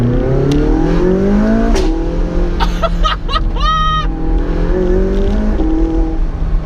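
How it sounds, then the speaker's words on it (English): A McLaren 675LT's engine rises through the revs and climbs in pitch, loud and close from inside the cabin, with sharp pops and crackles on the gearshifts and a voice briefly heard underneath. "One of this thing's greatest party tricks is the way it pops on upshifts."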